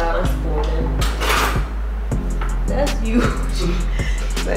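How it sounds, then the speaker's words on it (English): A large fork clinks and scrapes against a bowl as cookie dough is mixed at home, with repeated quick metallic taps close by in an irregular rhythm. "I want to start mixing it to see the texture"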